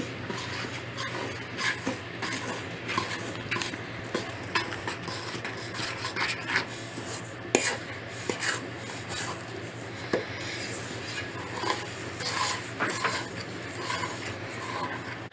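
Homemade play dough mixture is stirred in a bowl, giving repeated scraping, knocking and rubbing strokes of a utensil against the container, close and uneven in rhythm, with no talking.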